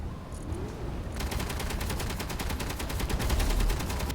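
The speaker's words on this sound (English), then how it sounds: "What? Gunfire." Rapid automatic gunfire in the video game Space Engineers, a dense fusillade of fast repeating shots that kicks in abruptly after a second of quiet and continues steadily and loud to the end.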